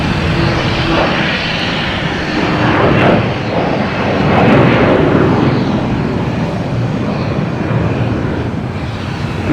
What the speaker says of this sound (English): We got a Delta coming in from Denver,